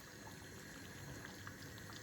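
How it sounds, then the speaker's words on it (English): A pot of water at a rolling boil for fresh tagliatelle bubbles and hisses steadily, a soft even churning that stays constant and fairly quiet throughout, with no voices. "once you've got sort of water on a rolling boil, just boil your pasta, just drop them into the water"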